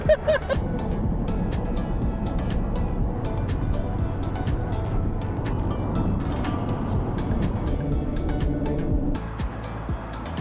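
Car driving along a road past an airport and a field, steady engine and road rumble close up throughout, with faint clicks and bumps on top.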